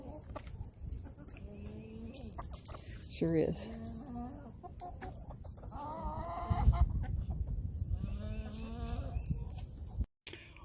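Chickens cluck and squawk in a backyard chicken yard in spring, a busy mix of near and farther birds with rhythmic clucking and occasional louder calls, while a person briefly speaks.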